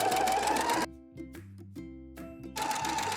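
A sewing machine stitches a bralette in two bursts of rapid, whirring needle strokes, broken by a short pause filled with soft clicks and handling noises before the motor runs again, close and loud.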